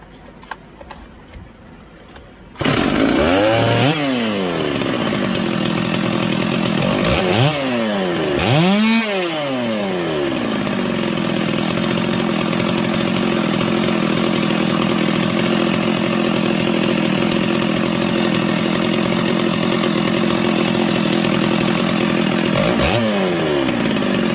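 After a few seconds of quiet, a rebuilt Stihl 066 chainsaw engine starts and runs loudly and close, revving up and down several times in sweeping surges before settling into a steady roar.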